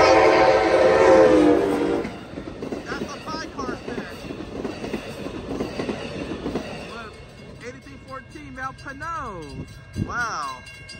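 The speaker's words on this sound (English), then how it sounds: "That's a 5-car set on that Capital Corridor train." An Amtrak Capital Corridor passenger train, five cars long, blasts its horn loudly, then rolls past with rumbling, clattering wheels while someone talks over it.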